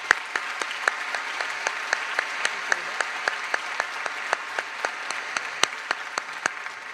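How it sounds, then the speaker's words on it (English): Graduation audience applause in a high school ceremony, a continuous crowd clapping texture with distinct louder individual claps punctuating it at a steady pace, sustained evenly for several seconds. "Let's give them a round of applause."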